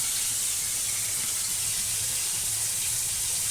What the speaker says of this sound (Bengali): মাছটা দিয়ে দিলাম কড়াতে